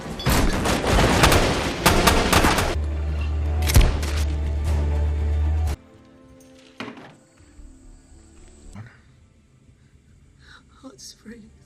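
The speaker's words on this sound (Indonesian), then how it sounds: "Setelah melalui aksi tembak-tembakan" A shootout in the war film Act of Valor: loud, rapid bursts of automatic gunfire and heavy booms for several seconds, then sharp isolated shots and thuds amid quieter stretches.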